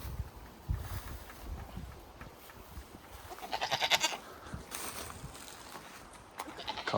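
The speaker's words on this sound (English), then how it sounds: "Some goats, if anybody wants to see some goats" Goats on a farm bleat a few times at middling distance over soft outdoor wind and rustling, with a brief louder cry near the middle; no clear talking.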